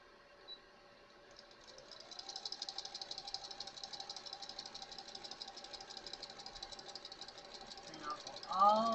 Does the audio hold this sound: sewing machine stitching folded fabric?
yes